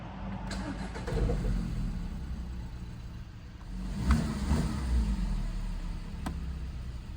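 VW Golf MK5 with a 1.6 FSI petrol engine, freshly refilled with about 3.5 litres of new oil, cranks and fires up, then settles into a steady low idle that rises briefly midway, heard close in a home garage.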